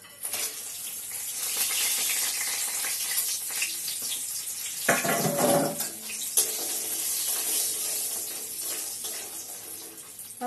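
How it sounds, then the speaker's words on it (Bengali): Bori lentil dumplings frying in oil for chorchori, a steady hissing sizzle throughout with a brief louder crackling surge midway, moderately close with no talking. "বড়িটাকে ভেজে নেব।"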